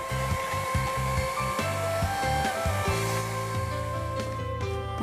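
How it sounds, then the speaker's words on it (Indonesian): An electric mixer beats batter for a cheese almond sponge cake until fluffy, giving a steady, close motor whir with a faintly pulsing low churn that runs unbroken for the whole stretch, with no talking. "Mixer sampai mengembang."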